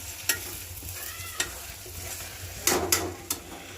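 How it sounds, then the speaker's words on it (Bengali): Onions fry in a pan with a soft, steady sizzle, broken by a few sharp scrapes and knocks as a utensil stirs them. No voices are heard. "পেঁয়াজটা অনেক সুন্দর ভাজা হয়েছে মাশাআল্লাহ।"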